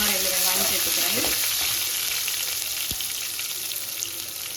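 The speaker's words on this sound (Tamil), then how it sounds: "எண்ணெய் காஞ்சிச்சு. லைட்டாக 2 வெங்காயம் சேர்த்துக்குவோம்." Two onions frying in hot oil in a Tamil home kitchen, a loud, dense, continuous sizzle with crackling spatters and a few brief clinks of a utensil, no talk over it.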